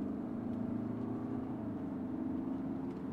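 A BMW M3 engine hums steadily with a low, continuous drone, approaching on the Nürburgring track without sharp revs and holding an even loudness throughout.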